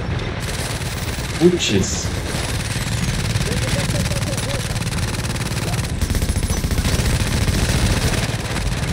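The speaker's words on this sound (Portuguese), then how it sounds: "Vou tentar pegar ele com a minha torreta." A player's turret fires in The Division video game, steady rapid automatic gunfire rattling continuously in the background while people talk over it.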